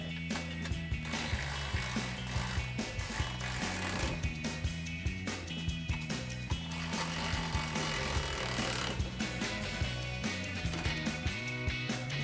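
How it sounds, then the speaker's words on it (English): Hand ratchet with a 14mm socket, backed by a 14mm wrench, tightening exhaust clamp nuts on a RAM 1500 Stillen dual exhaust; steady rapid clicking pawl strokes repeat close up over a low background hum. "we can take our ratchet with our 14mm socket and a 14mm wrench and tighten them down"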